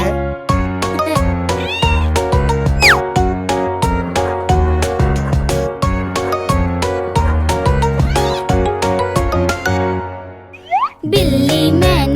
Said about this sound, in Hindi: बिल्ली मैंने पाली है, कान में इसके बाली है।